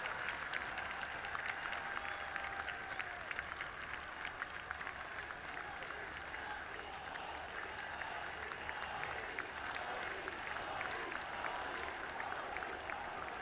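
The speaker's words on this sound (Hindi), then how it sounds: "सभी अपनी तरफ से जोरदार तालियां बजाकर प्रधानमंत्री जी का स्वागत" A crowd at a Dussehra festival event claps loudly and continuously to welcome Prime Minister Narendra Modi, a sustained wash of applause heard from some distance.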